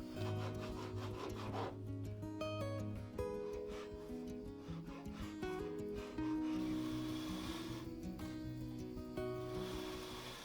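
Frets on an olive wood guitar neck are levelled and bevelled with repeated abrasive rubbing and filing strokes, a continuous close scraping rasp with a rhythmic back-and-forth texture.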